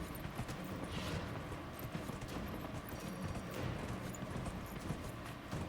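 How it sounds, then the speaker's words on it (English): Horse hooves beat in Dragon Age: Inquisition as the mount moves with a jerky gait, the footfalls blurred into a dense, continuous wash of game noise at steady loudness. "It's like the horse is moving with its 2 front legs separately, almost."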